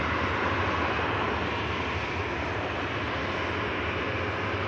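Aircraft touching down on runway 05 left at Manchester Airport, a steady, loud broadband engine roar and rush that holds evenly throughout, with no voices.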